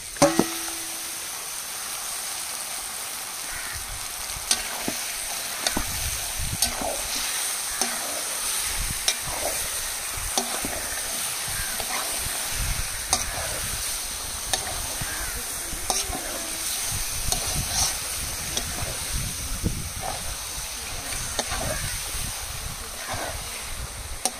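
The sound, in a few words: chicken meat frying and stirred with spices for chicken biryani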